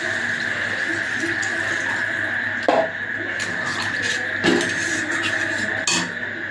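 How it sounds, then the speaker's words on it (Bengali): Water is poured into a pot of potato curry after the spiced potatoes have been sautéed, giving a steady watery rush with a few brief clinks of the pot, heard alone at moderate loudness. "জলটা দিয়ে দিলাম।"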